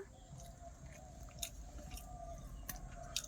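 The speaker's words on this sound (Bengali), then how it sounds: "এই কক মুরগির মাংসটা স্বাদ ভালো, কিন্তু চিবানো যায় না" Chewing on tough rooster chicken meat in curry at a home meal, wet crunching and biting close up in a steady rhythm, with sharper bites now and then and a low room hum underneath.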